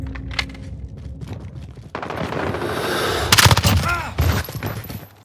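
Rapid bursts of gunfire in a Counter-Strike match, several sharp volleys clustered together, loud and close, with some quieter shots and game effects between them.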